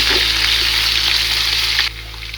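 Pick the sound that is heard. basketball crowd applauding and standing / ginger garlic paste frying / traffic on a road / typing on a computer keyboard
ginger garlic paste frying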